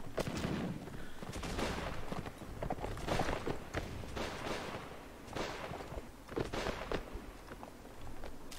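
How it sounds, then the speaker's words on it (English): Gunners firing in the Warsword Conquest video game, rapid rattling volleys of shots in irregular bursts over battlefield noise, mid-distance and fairly busy. "rattling gunners doing damage"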